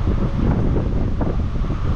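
Strong wind blows outdoors on a roadside site, a loud, steady roar buffeting the microphone with no voices over it.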